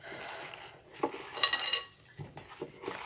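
Tofu cubes are tossed with cornstarch in a bowl, giving soft scraping and clinking of a utensil against the dish in a few irregular bursts, close and clear with quiet gaps between.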